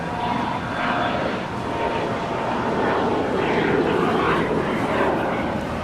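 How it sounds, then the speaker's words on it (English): Bombardier Challenger 300 business jet, FlexJet flight 521, taking off from LAX runway 25 right: a loud, sustained engine roar with a broad rumble and slowly shifting whine that holds steady throughout. "That is a Bombardier Challenger 300 departing to Palm Springs, FlexJet flight 521."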